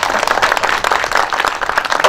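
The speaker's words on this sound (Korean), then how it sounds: "큰 박수 받으십시오." Audience at a gayageum byeongchang concert claps steadily, a dense, even wash of applause at moderate loudness with no voices over it.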